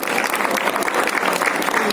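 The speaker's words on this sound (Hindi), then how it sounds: "तो एक बार जोरदार तालियों से स्वागत करें" An audience at a sports dialogue event in a party office in Delhi claps loudly and steadily to welcome a guest, a dense, even burst of applause filling the short stretch.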